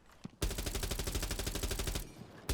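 Rapid automatic rifle fire from a 50-round weapon in Rainbow Six Siege, a loud, steady burst of evenly spaced shots lasting about a second and a half, followed by a brief pause and the start of another burst.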